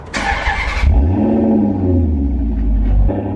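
A car engine gives one quick rev, a sharp roaring burst up front that falls away into a deep, wavering idle rumble, close and loud with no talking.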